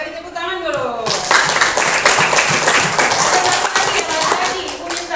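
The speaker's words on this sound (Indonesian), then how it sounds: "beri tepuk tangan dulu" A voice speaks briefly, then a group bursts into lively applause, many hands clapping quickly and continuously, close and loud.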